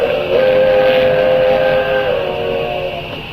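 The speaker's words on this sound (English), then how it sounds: "He's waiting for the train." A train whistle sounds with sustained, loud tonal blasts over the rumble of a train approaching on the tracks, with no talk.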